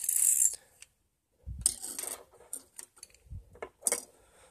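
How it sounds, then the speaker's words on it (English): Metal parts of a Star 9mm Largo pistol rasp, click and clatter in short bursts as the slide, barrel and recoil spring are handled during disassembly, close and fairly quiet with brief pauses. "slide the barrel back, move the recoil spring from the rear"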